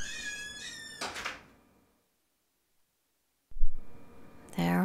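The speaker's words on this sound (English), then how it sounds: "There was the squeaky door." A squeaky door during a yoga session sounds once as a short, low creak-thump after near silence, set between stretches of instructor speech.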